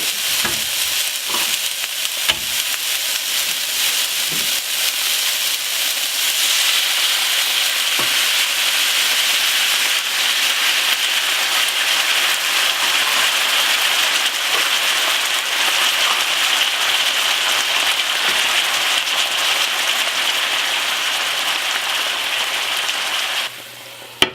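BBQ chicken frying in a pan, giving a steady, loud sizzle with a bright hiss and occasional crackles and pops, continuous for over twenty seconds with no talking.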